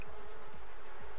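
Bees buzzing in the Sims 4 life-simulation game after a mite treatment leaves them agitated, a steady droning hum that runs the whole short moment with no voices.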